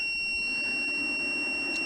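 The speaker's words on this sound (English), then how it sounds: "the alarm is running because the battery is not strong enough to run these outlets" Low-battery alarm on a Harbor Freight 5-in-1 portable power unit sounding as a continuous shrill electronic tone, steady and fairly loud over a low fan hum, with no voices.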